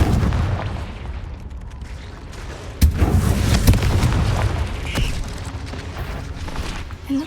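A Confringo fire spell in the Hogwarts Legacy video game detonates in a sharp, booming blast, followed by a second thud and rumbling reverberation over a low ambient game background.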